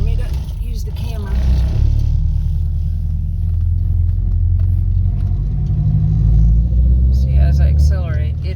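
A 2003 Honda Civic with a gauge cluster fault accelerates inside a parking deck, its engine a steady close rumble that swells gradually, with someone talking over it throughout.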